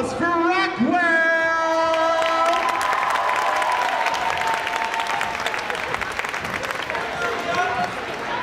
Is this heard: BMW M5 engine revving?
no